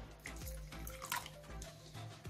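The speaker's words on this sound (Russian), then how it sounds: "И добавим еще 50 грамм воды." Water is poured into a sauce mixture with garlic and ground black pepper, giving a soft, faint trickle and splash across a couple of seconds, heard alone without talk.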